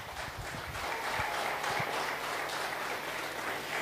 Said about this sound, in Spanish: Un fuerte aplauso a Cristo Jesús.